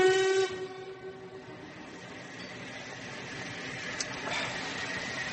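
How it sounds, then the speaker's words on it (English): Radio-theatre sound effect of a London-bound train pulling out of a station: a short steam whistle blast opens, followed by a sustained, steady rumble of moving rail cars at moderate loudness, with no talk. "Weren't we supposed to get that train? Was that the London train?"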